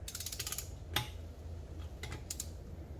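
Torque wrench tightening beadlock rim bolts on a Nissan GQ utility, quick faint ratcheting clicks in short bursts over steady low background hum, with a single louder click partway through.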